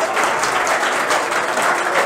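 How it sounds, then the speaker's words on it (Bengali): Students applauding in a coaching class, a loud, steady round of clapping held evenly throughout the short stretch without talk. "জোরে হাততালি একটা"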